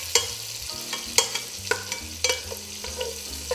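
Chopped scallions cook in a skillet, giving a soft, steady sizzle broken by sharp clinks and scrapes of a utensil stirring against the pan, close and fairly quiet with no one talking.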